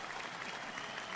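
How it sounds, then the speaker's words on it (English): A crowd claps steadily at a live event, a dense, even patter of hands at moderate volume that keeps going without pause. "I'll even give you an applause"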